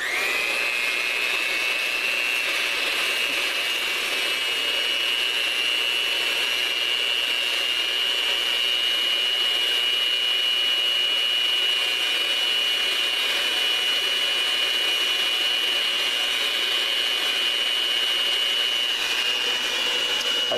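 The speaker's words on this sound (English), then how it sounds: "Half of the sugar, whisk. I have a little attachment here." An electric hand whisk with a small attachment beats eggs and sugar for a cake batter, giving a steady, loud, high-pitched motor whine that holds unbroken throughout, with no talking.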